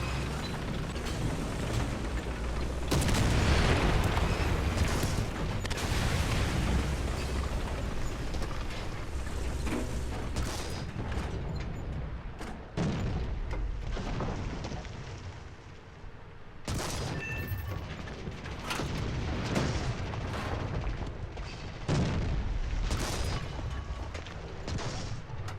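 Tank gunfire and explosions in the War Thunder ground forces battle, with heavy booming blasts and rolling rumble filling the whole stretch, several sharp bursts standing out over dense continuous combat noise.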